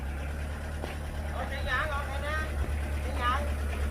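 A tractor engine hums steadily inside a greenhouse while spreading pelleted manure fertilizer, a low continuous drone under intermittent talk from nearby men.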